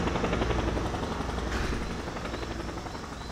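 A steady, loud rotor thrum of a helicopter in the video game Just Cause, with a dense, pulsing engine roar throughout, no voices.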